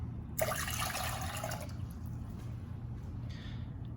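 A short burst of water pouring into a measuring cup, a bright rushing splash of about a second that stops abruptly, soft and near, with a faint trickle afterward.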